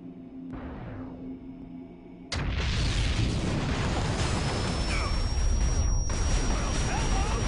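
Airstrike explosions called in from the Titan war machine in the XCOM video game: a sudden loud blast erupts and a heavy, sustained roar of fire and rumble continues after it.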